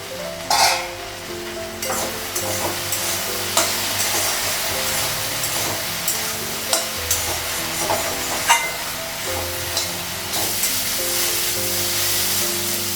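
Okra sizzles in a hot pan with a steady crackling hiss, occasional stirring clinks, and a faint tonal hum underneath.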